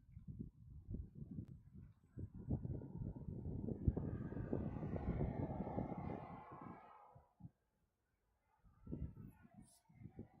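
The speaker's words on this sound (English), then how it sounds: "This is a C-17 heading up to the reef runway." A Boeing C-17 military transport aircraft heads toward the reef runway at Honolulu airport, its broad jet roar swelling and then fading over several seconds while people talk throughout.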